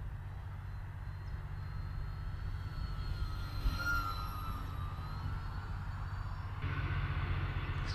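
A Sonic Modell Binary fat-wing RC model plane with enlarged ailerons flies at a distance, its electric motor a steady, faint whine that rises and falls gently over a constant outdoor background hum.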